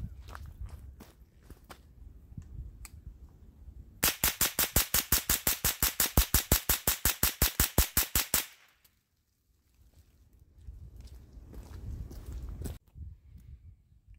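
A Smith & Wesson M&P 15-22 rifle fired rapidly outdoors, a fast string of about twenty sharp evenly spaced cracks lasting several seconds, loud and close, between quieter handling noises.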